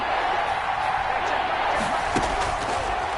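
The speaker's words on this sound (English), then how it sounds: "the crowd getting into it as we come up on a big 3rd down" Roaring football stadium crowd at a Steelers vs Chiefs game building ahead of a big third down, a dense sustained wash of cheering with a few sharper bursts, under talk.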